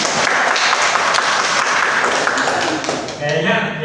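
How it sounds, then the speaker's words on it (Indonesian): A small classroom group claps after a microteaching session, with steady, loud applause close by that carries on for several seconds and briefly dips near the end. "Oke, tepuk tangan dulu."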